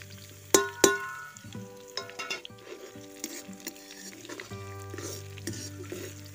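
Garlic and onion frying in hot oil while a spoon stirs them, two sharp metal knocks early on, then scraping stirs and crackling sizzle, close and fairly quiet.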